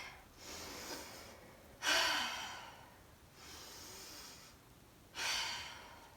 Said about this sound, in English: We'll do 3 deep breaths.